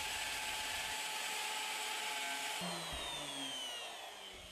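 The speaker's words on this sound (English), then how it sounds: "Now position the jig to route the holes for the connecting bolts." A Bosch router guided by a jig cuts holes for connecting bolts in wood, a loud, steady high-pitched whine with the pitch shifting as the bit bites in and then easing down near the end.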